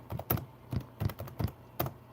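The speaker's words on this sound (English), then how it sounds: "I'm on my computer right now typing." Computer keyboard typing at close range, bursts of several clacking keystrokes in an irregular rhythm with short pauses, no voices.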